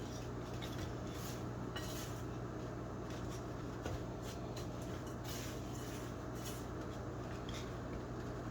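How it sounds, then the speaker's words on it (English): Brown sugar and oats are stirred together in a bowl with a utensil, soft repeated scraping and clinking strokes, quiet and close over a steady low background hum. "I'm trying to break up these big particles of brown sugar"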